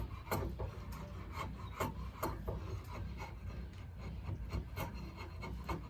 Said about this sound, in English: I'm pulling right now on my draw knife because I need to get the pithy white wood removed